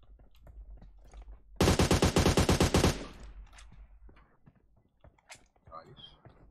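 Suppressed AR-556 rifle fire in PUBG Mobile, one rapid burst of about a dozen evenly spaced, punchy shots lasting just over a second, loud and close, then quieter scattered game sounds.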